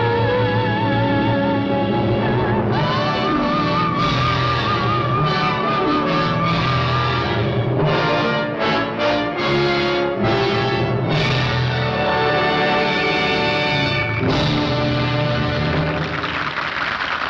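A soprano sings an off-key opera aria over a full orchestral score by Bernard Herrmann, as Susan Alexander in Citizen Kane, sustained loud and dense throughout with brass and strings swelling beneath the straining voice.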